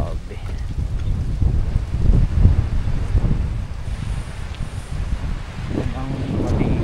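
Strong wind buffets the microphone at Choec Van Beach near the water, a steady low roar with louder gusts throughout, and voices speak over it.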